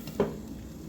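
Bottle gourd thalipeeth, a spread-out flatbread, is laid on a hot tava and gives off a single quick, soft sizzle burst that fades into a low, quiet hiss.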